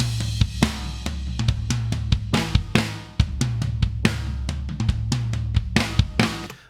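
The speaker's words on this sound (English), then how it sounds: "Here's what it sounds like right now with the drums in the room that I recorded and EQ and compression and things like that." A drum kit recorded in a room plays a busy groove through EQ and compression, with punchy kick and snare hits and bright cymbal wash, loud and continuous.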